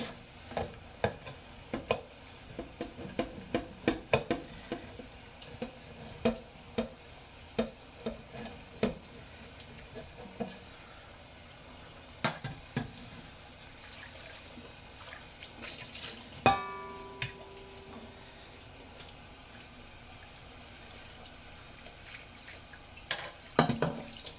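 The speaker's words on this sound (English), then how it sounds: "I'm going to keep scrubbing." Scrubbing a pan in a sink with water, an irregular series of brisk scrubbing strokes and splashes over a quiet watery background, close, with no talking.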